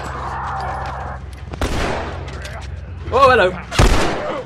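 Sharp gunshots ring out in The Last of Us, several bursts and booms scattered among scuffling action, loud and close, while someone briefly speaks over the fight.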